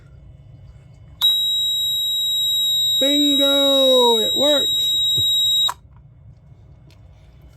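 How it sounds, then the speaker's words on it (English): A newly installed high-water bilge alarm on a sailboat sounds with a loud, steady piercing electronic tone for about four seconds, starting and stopping abruptly, while someone speaks briefly over it. "Bilge alarm installed."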